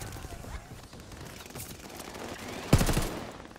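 Gunfire from a gun in Call of Duty Vanguard: one sharp, loud shot cracks out near the end over a low rumble of game ambience.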